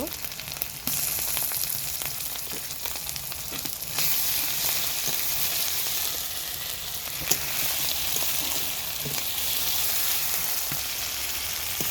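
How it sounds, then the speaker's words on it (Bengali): Onions frying in a pan while cooking a fish and potato curry, a steady close hiss and crackle of sizzling oil that runs throughout, with faint occasional clicks of stirring. "এই যে আমার পেঁয়াজ ভাজা হয়ে গিয়েছে প্রায়।"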